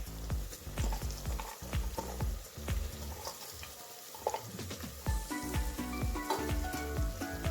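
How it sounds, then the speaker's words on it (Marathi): Cauliflower, potatoes, peas and carrots for pav bhaji fry in oil seasoned with spices, giving a loud, constant sizzle broken by repeated clinks and scrapes of stirring close at hand. "मसाल्यांनी छानपैकी तेल सोडलंय, त्यात आपण या भाज्या घालून घेऊ।"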